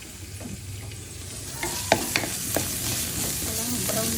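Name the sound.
garlic being stir-fried and browned in a pan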